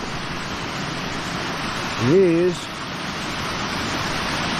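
Water pours over the Coney Cascades on Coney Brook in a wooded management area in Rhode Island, a steady broadband rush heard close and continuous, with a brief spoken word over it.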